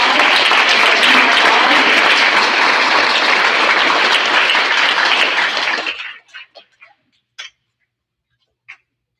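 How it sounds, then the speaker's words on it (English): Loud, dense applause from an audience at a sixth grade school awards ceremony, clapping steadily for students for about six seconds before it thins out into a few scattered last claps and near silence. "Please give these students an extra round of applause"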